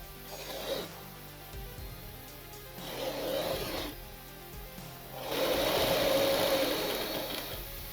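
Bursts of sewing machine stitching on skirt fabric, three separate runs of a whirring motor of about two seconds each, the final run longest and loudest, with quiet pauses between them.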